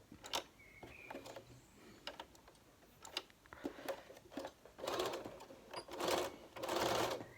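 A sewing machine stitches down an elastic casing in short, uneven bursts with ticking, clattering mechanism sounds, quiet and close, growing louder toward the end.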